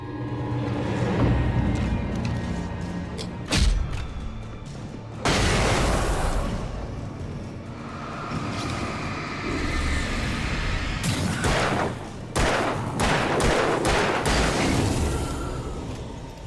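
A flashbang grenade detonating in a video game: several sharp, loud bursts stand out over a dense, continuous game soundscape, with no one speaking.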